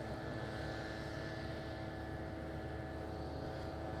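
A Finnair jet on approach to land at Madeira Island Airport, a steady broadband engine roar holding evenly throughout with no voices.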